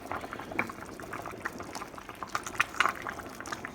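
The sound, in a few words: jambalaya liquid boiling in a pot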